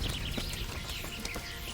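A horse in the video game Kingdom Come: Deliverance, soft clip-clop hoof steps and faint animal sounds in a brief moment, fairly quiet, with no talk.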